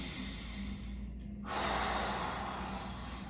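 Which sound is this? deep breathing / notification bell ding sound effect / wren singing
deep breathing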